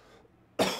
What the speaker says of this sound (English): Yeah, my cough is still here.